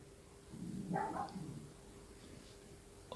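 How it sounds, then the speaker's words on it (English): A dog next door, heard from indoors, gives one muffled, distant bark that fades quickly in an otherwise quiet room. "I don't know if you can hear that dog outside barking, but there's a dog next door and he's just standing there barking at nothing."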